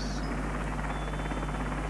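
An RAF twin-turbine Wessex helicopter in flight, a steady close drone of turbine whine and pulsing rotor thrum that holds level throughout, with no speech.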